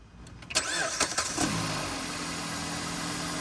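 A Dodge Chrysler Jeep 2.4L car engine cranks with a few quick starter bursts, catches, and settles into a steady idle, heard close and fairly quiet.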